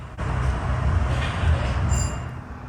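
South Shore Line train pulling out of Millennium Station, a loud steady rumble of rail cars rolling close by with a brief high wheel squeal near the end.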